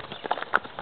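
Hooves of a young mule being ridden during training, producing faint, irregular clip-clop beats at close range with a few sharper knocks, no voices over them.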